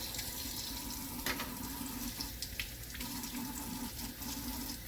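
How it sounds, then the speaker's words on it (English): Tap water runs steadily into a kitchen sink while boiled potatoes are peeled, a close, continuous splashing hiss with small irregular changes as hands move through the stream, no talk. "This helps to have some running water if it gets too hot."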